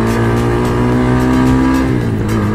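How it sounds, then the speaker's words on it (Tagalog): A KTM Duke motorcycle's exhaust drones steadily and loudly at a constant pitch, close by, then the note drops slightly near the end. "I like the sound of the exhaust"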